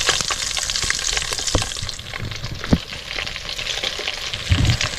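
Pepper chicken with green and dried chillies sizzles and fries steadily in a pan while a spoon stirs and scrapes through it, with occasional louder clacks against the pan and no talking.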